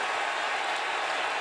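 A stadium crowd at a college football game between Oklahoma and Texas roars in a dense, continuous wash of noise, loud and sustained, with no single voice standing out.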